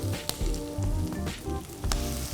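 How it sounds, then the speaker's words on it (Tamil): Sliced onions and slit green chillies sauté in a pan for a Chettinad mutton soup, giving a close sizzle with small crackling pops and brief bursts over a constant frying hiss. "இதோடு சேர்ந்து வதக்கணும்."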